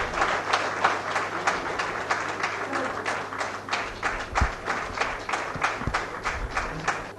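Scattered audience clapping for a memento presentation at a technical session meeting, fairly light and uneven, with distinct individual claps and a low background hum.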